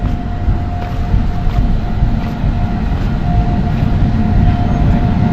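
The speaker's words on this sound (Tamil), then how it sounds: "நம்ம ட்ரெயின் வந்துருச்சு" The Amritha Express (Train No 16343), a passenger train, rolls into a station platform on the Coimbatore to Palakkad route with a loud, steady rumble of wheels and carriages close by, running throughout with no talk.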